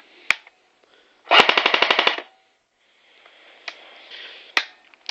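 Cybergun-licensed two-tone P90 airsoft gun firing on full auto: a single semi-auto shot, then one short rapid burst of about ten evenly spaced clacking shots, followed by a few isolated clicks and light mechanical handling noises.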